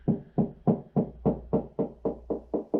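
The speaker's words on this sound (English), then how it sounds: "You can just use your hand and knock" Bare hand knocking on a drywall surface, about ten steady, evenly spaced hollow raps, close and clear with nothing else heard.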